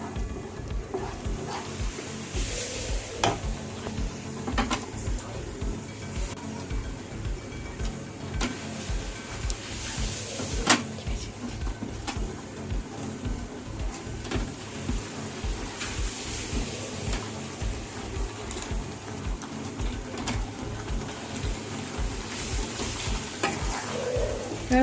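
Chicken pieces sizzling in hot oil in a pan for chilli chicken, with a steady frying hiss and regular scraping stirs that tick against the metal throughout, close and fairly loud.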